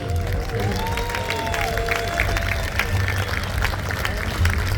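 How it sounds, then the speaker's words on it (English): Audience applause at a community celebration event, a steady wash of clapping and crowd noise with some cheering, loud and continuous throughout with voices mixed in. "Let's hear really a big applause for making this happen."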